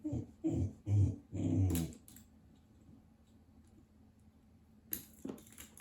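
A dog growls and whimpers close by in a few strong bursts over the first two seconds, then falls quiet before a short scuffling clatter near the end.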